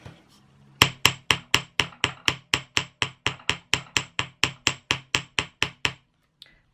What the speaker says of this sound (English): I'm just going to give it kind of a good hammer like that.